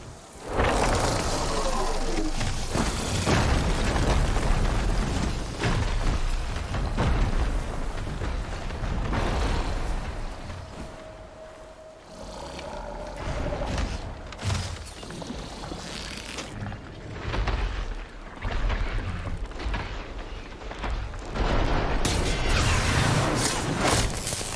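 Support beam shot and collapsing in Horizon Forbidden West: loud, dense crashing and booming rumble filling the whole stretch, with mechanical clatter and heavy impacts, under game music and voices.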